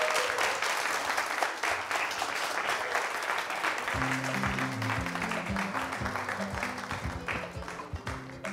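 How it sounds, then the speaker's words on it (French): Studio audience applauding an artist group on a TV variety show, a dense, steady wash of clapping throughout, joined midway by a backing music track underneath. "Merci d'applaudir les gars"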